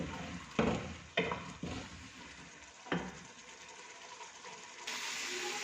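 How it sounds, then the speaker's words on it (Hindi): Chicken handi masala being stirred in hot oil in a pot, with several scraping spoon strokes over a continuous close sizzle that swells louder near the end. "अब इसको पकाएंगे इस तरह ताकि इस तरह मिक्स हो जाए और ऑयल ऊपर आ जाए"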